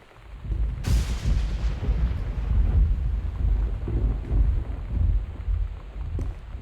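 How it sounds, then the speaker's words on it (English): Deep rolling thunder in the video game Gone Home, a sudden loud crack followed by a long low rumble that swells and fades over several seconds amid rain and wind, with no talking. "I think that's supposed to be thunder, but it sounds way scarier"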